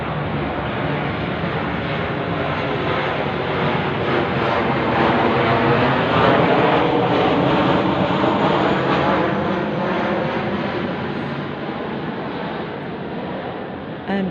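A propeller or jet airplane passes overhead, a loud, broad continuous roar that swells toward the middle and slowly fades, heard alone without voices.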